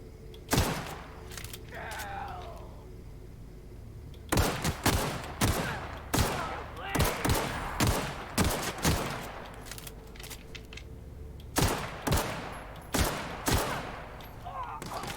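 Gunfire in The Outer Worlds video game: sharp, loud shots, a couple early then a long run of rapid irregular bursts, each crack ending in a brief thudding decay over a low steady background hum.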